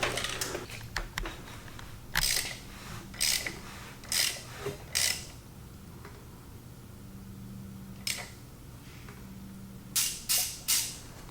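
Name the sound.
turning an engine crankshaft by hand for a compression check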